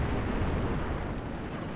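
Rocket launcher blasts in Halo Reach make a dense, rumbling explosion roar that fills the whole moment, low and heavy, with a faint bright ping near the end and no voices.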